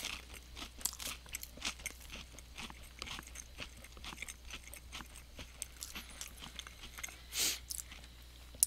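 Close, quiet chewing and crunching of frozen Eggo chocolate chip waffles topped with syrup and butter, with irregular bites and mouth sounds over about nine seconds and no talking.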